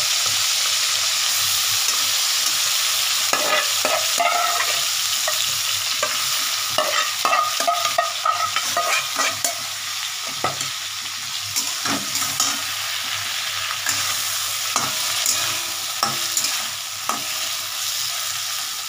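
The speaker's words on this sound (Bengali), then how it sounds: "এই দেখো মাছগুলো আমি ছেড়ে দিচ্ছি, গ্যাসটা কমিয়ে নিই।" Prawns frying in a pan over lowered gas heat, a continuous soft sizzle with intermittent stirring clicks and scrapes, close and without talk.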